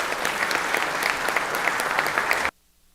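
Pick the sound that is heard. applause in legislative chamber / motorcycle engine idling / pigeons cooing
applause in legislative chamber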